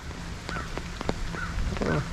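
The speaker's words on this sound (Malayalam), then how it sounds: "ഇവിടെയൊക്കെ കാക്കൻ്റെ സൗണ്ട് കേട്ടോ." Crows cawing outdoors near a school, a few short harsh calls repeating at irregular intervals over steady background noise, fairly close and moderately loud.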